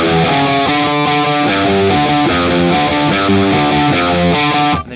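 A loud, distorted electric guitar plays a riff, a thick repeated figure of chugging notes played steadily and close that stops abruptly near the end.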